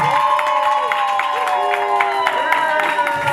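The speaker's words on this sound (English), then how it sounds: "clap for yourselves" A crowd at a dance show claps for itself, scattered applause and cheering under loud music with sustained tones, voices mixing in.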